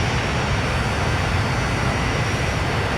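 A Boeing 737-100 with its original jet engines in Transport Fever 2 roars with a loud, steady, broadband rumble and hiss, unbroken and dense throughout, with no voices.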